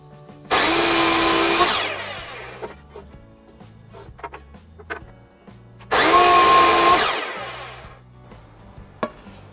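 Two loud bursts of a power saw cutting wood pieces at 90 degrees for a painting frame, each lasting about a second, with quieter knocks and handling noise between them.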